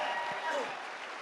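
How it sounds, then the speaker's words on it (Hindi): Applause from an audience at an Urdu poetry mushaira in Oman, a brief dense burst of clapping with a voice briefly audible over it. "बहुत सारी तालियां हो जाए जी"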